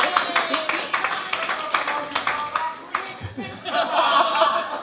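Wedding guests clapping and cheering, a brief burst of scattered applause with some laughter, following someone speaking.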